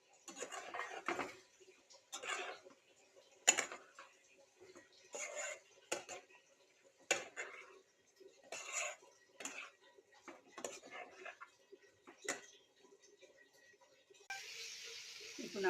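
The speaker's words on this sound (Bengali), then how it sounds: "একটু নাড়াচাড়া করতে থাকবো যেন তলায় লেগে না যায়।" A spoon scrapes and knocks against a cooking pot as spices are stirred, giving a steady series of close metallic clinks and scrapes at an irregular rhythm, with a brief burst of hiss at the end.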